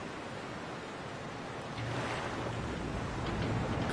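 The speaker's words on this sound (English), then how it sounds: "Clears away the water and gets rid of all the water, actually." Water draining away in the Resident Evil 2 video game, a continuous rushing, surf-like wash that swells slightly louder partway through, moderately faint and without voices.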